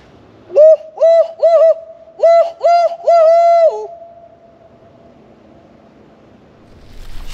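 A turkey hunter gives a call imitating an owl: six clear, hollow hoots in a rhythmic series, loud and close, followed by quiet woodland.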